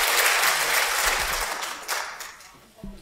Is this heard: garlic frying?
no